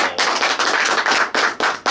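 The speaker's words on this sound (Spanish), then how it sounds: "¡Un fuerte aplauso!" A studio audience on a Friday variety program breaks into applause, with bursts of close, loud clapping separated by short gaps and no talk over it.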